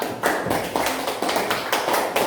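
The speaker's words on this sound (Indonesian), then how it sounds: "Tepuk tangan dulu untuk kelompok Bapak Dokta" Group of people clapping in a classroom for a presenting team, steady brisk rhythmic handclaps close by, fairly loud and continuous with no talk over them.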